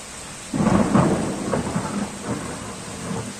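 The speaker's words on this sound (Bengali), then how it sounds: "মেঘে গর্জনও করছে, শুনতেই পাচ্ছেন।" Low thunder rolls in during rain on a tin roof, a deep rumble that starts suddenly and slowly fades over a steady hiss of falling rain, with no talking.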